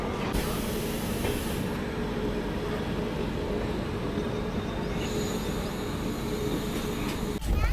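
Brahmaputra Mail train pulling out of Pandit Deen Dayal Upadhyay Junction after a stop, heard from inside as a steady close rumble of wheels and carriage noise with hissing, continuous throughout and briefly jolting near the end.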